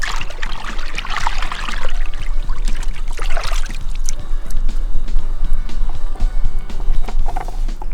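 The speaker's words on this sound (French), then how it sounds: "Le mouillage de l'amorce, introduire cet aromix avec l'eau dans l'amorce" Water mixed with Aromix flavouring is poured into roach fishing groundbait, giving a close, continuous trickling and dripping with wet splashes and squishy mixing, with no talk.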